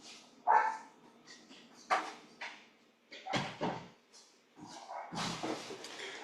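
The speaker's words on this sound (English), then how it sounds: "my dog is barking" A dog barks several times in short bursts, somewhat muffled, with quieter gaps between.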